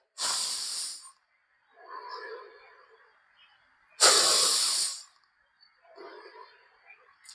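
Slow, deep yoga breaths in and out, each one a long airy hiss lasting about a second, in two clear cycles with quiet gaps, heard up close with no talking.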